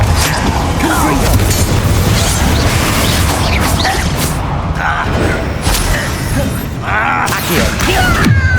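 A Confringo fire spell blasting in Hogwarts Legacy combat, heavy booms and crashing impacts repeating in loud bursts over dense rumbling game noise and clattering effects.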